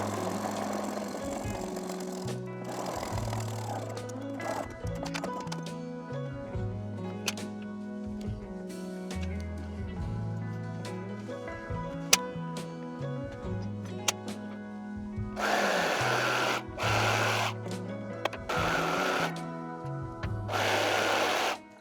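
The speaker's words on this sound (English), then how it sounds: "I will start sewing my pieces together, the side seams first." A sewing machine stitches the side seams of a tube top, with short whirring bursts stopping and starting over steady background music, growing louder and more choppy toward the end.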